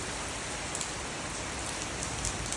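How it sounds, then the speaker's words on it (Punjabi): Heavy rain pours steadily in the early morning, a dense, even hiss of drops on surfaces with no voices and no breaks. "ਇਸ ਸਵੇਰੇ ਸਵੇਰੇ ਮੀਂਹ ਪੈ ਰਿਹਾ ਦੋਰਾ ਸ਼ੋਰ ਨਾਲ ਮੀਂਹ ਪੈ ਰਿਹਾ"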